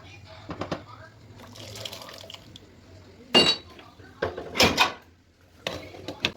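Water is poured into a cooking pot of sautéed vegetables, heard as a few bursts of splashing and pouring amid quiet kitchen clatter and a faint background hum.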